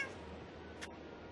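A single short cat meow in Minecraft on the Xbox 360, soft and slightly distant over a low steady background hum of rain, with no talking.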